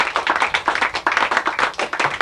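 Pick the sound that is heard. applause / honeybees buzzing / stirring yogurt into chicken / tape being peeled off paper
applause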